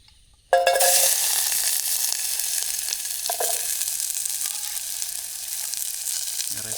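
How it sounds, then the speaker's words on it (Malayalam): Oil sizzles loudly in a pan at a camp cookout on an island, starting abruptly with a burst and then settling into a steady, dense hiss that carries on without talk. "കുറച്ച് എണ്ണ ഒഴിച്ചു."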